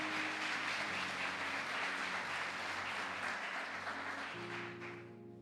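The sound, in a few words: congregation applauding in church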